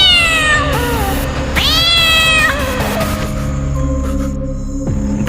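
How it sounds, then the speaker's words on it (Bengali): A black cat near the Kangsabati bridge lets out several loud, drawn-out, wavering yowls close by, eerie and rising in pitch, before a low hum takes over. "হঠাৎ বিড়ালটি"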